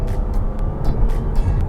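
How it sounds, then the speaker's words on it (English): A supercharged Audi S5 engine fitted with a cold air intake drones and rumbles steadily up close, with faint whooshing intake hiss pulsing over the deep, throaty low end. "Way different in sound than it was with a standard airbox"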